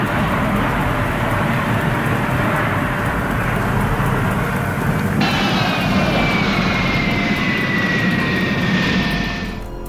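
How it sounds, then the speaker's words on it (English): A commercial jet lands on a grass field, a loud continuous roar with a rising engine whine partway through as it passes close. "they landed a commercial jet on grass to honor a crash site"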